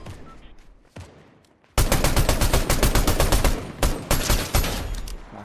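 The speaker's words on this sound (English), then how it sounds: "A lot of gunfire coming from over here." Rapid bursts of gunfire from the video game Fortnite, loud and dense volleys of shots crackling continuously after a quieter opening with a few faint distant pops.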